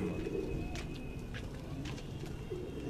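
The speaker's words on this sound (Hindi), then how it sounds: "उहे कबूतर है कबूतर" Pigeons coo softly in low repeated calls from a rooftop in Larkana, with a few higher chirps and a faint steady tone in the background.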